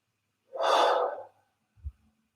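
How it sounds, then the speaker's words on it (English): A person takes one deep, audible breath in through the mouth during a guided meditation, followed by a soft low thump, close and in otherwise quiet surroundings. "Breath in again."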